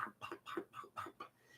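A person imitates geese with a voice, giving about six short honking calls in a quick, uneven run, each a clipped nasal burst, close to the microphone and fairly quiet.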